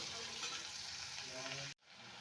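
Chopped tomatoes and green chilli frying with salt and turmeric in a pan: a steady, dense sizzle, briefly cut off near the end before resuming.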